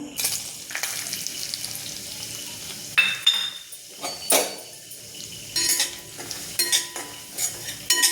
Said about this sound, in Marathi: याला छान मंद गॅसवर 5 मिनिटं लाल होईपर्यंत भाजायचा चांगला, म्हणजे रवा एकदम छान भाजला जातो